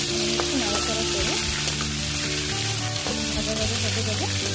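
Sliced ridge gourd fries in a pan with spice paste and black cumin, giving a loud, steady sizzle with occasional stirring scrapes and a faint voice in the background.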